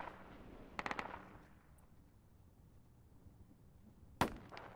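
Sniper rifle shots from the video game Project Reality ring out as two sharp, distant cracks a few seconds apart, separated by quiet ambient game noise.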